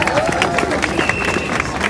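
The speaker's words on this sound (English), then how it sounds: "round of applause for Dr." A protest crowd at a pro-Palestinian rally in Leeds gives a round of applause: steady, fairly close clapping mixed with crowd babble and voices.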